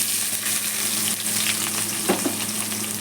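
Thinly sliced onions frying in hot oil with dried red chillies for an Andhra stuffed brinjal curry, a steady close sizzle with a few soft stirring scrapes and no voices.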